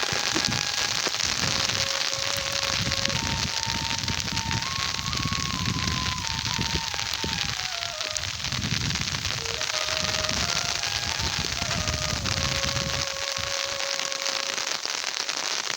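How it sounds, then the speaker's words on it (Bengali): Rain pours on a cloudy, overcast day as a steady, dense hiss, with faint tonal whistles drifting over it throughout. "দেখো বৃষ্টি পড়তেছে"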